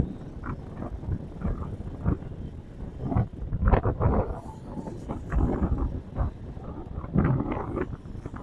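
Strong wind blows across a riverside boardwalk and flood wall linear park in Valenzuela, a steady rough rumble with irregular gusts buffeting the microphone throughout.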